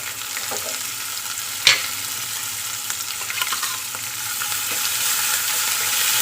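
Ginger, chili and garlic paste sizzling in hot oil with cumin, asafoetida and sesame seeds, a steady close hiss with one sharp clink of a spoon early on and light stirring scrapes.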